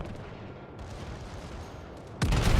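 Main battery salvo from the Warspite battleship in World of Warships, a heavy booming blast that bursts in near the end after a low rumbling background of battle noise.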